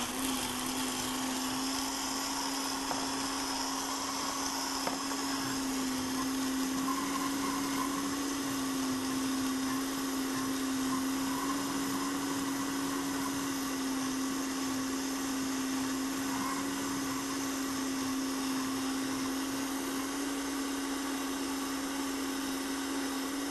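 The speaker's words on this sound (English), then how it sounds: "So let's blend this together, and then we'll add the agar afterwards." A blender runs steadily on a dairy-free cheese mixture, giving a loud, constant motor whine with a strong steady pitch that barely changes for the whole stretch.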